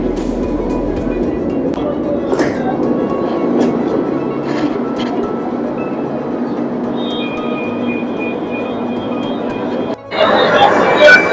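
A train on the Noapara to Jai Hind (Airport) metro line rolls along as heard from inside, with a steady rumble and clatter throughout and a loud surge near the end. A voice talks over it.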